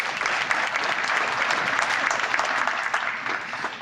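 Audience applause at a groundbreaking ceremony for a tower renovation, a dense, steady crowd of clapping hands sustained evenly from start to finish with no speech over it.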